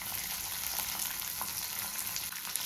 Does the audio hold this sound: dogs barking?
no